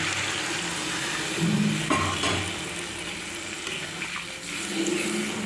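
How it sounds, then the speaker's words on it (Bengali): Water pours into a pan of fried spices for a live-fish (jiol) curry, a steady broadband splashing and hissing rush that swells briefly midway and runs continuously for several seconds, with no talking. "এখন কিন্তু আমি জল দিয়ে দেব পরিমাণ মতো ঝোলটা দিয়ে দেব"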